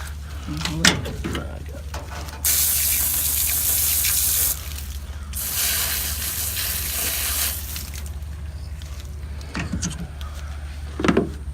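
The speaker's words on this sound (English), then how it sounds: "Let me rinse my hands." Hands being rinsed under a running tap while cleaning and cooking a Florida gar: a strong, steady gush of water for about two seconds, then a softer continuous flow, with brief voices around it.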